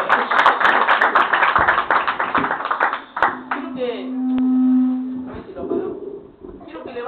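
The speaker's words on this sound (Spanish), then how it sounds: "Den un aplauso a la palabra del Señor." Congregation applause in a Spanish-language evangelical church service, a dense burst of clapping for the first three seconds that gives way to a sustained tone and a voice.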